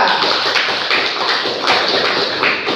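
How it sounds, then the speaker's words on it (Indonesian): Classroom applause for a student group in a high school maths lesson: a dense, steady wash of many hands clapping together, loud and close, with no voices over it. "Beri aplaus untuk kelompok 3."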